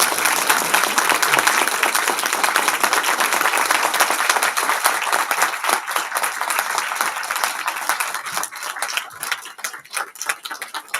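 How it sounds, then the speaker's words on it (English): A dinner crowd gives a full, loud round of applause that holds steady for several seconds, then thins into scattered individual claps toward the end. "Please give a round of applause."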